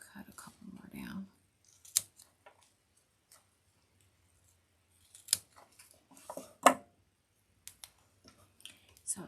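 Scissors snip through foil decoration strands in a few scattered, crisp cuts with quiet gaps between them, close by; soft whispery talk is heard near the start.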